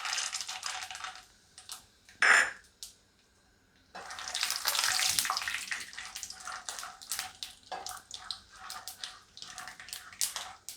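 Raw peanuts tipped into hot oil in a pan for Indori poha give a steady, close frying sizzle, broken by a short burst and a brief quiet gap before the crackle returns.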